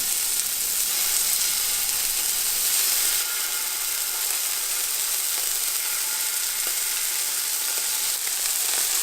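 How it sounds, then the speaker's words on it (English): Scallops searing in hot oil in a pan give off a loud, continuous crackling sizzle that holds steady with no break, up close and with no talk over it. "With the pan still hot, we'll add the remaining 2 teaspoons of oil and then put the scallops in."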